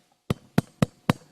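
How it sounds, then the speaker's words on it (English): Four firm knocks on a door, evenly paced with short gaps, close and fairly loud, with no voices. "That'll be you knocking on their door."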